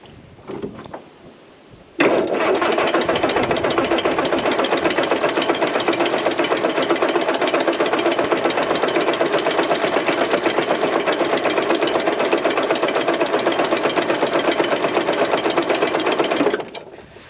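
Petrol engine of a 1970 Rover 2000 cranks and catches, then runs steadily at a fast, even idle with a busy mechanical chatter for about fourteen seconds before cutting off abruptly.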